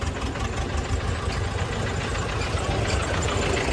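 A steady, rumbling engine of a modified 1991 model 5911 tractor idles close by, its low throbbing continuous and unchanging throughout, with no voices.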